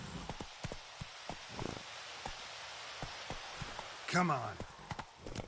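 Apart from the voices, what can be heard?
horse Roach galloping in a video game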